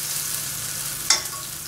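A small onion sautés gently in a pan for risotto, giving a steady soft sizzle throughout with a single brief scrape of stirring partway through, close and fairly loud with no talking.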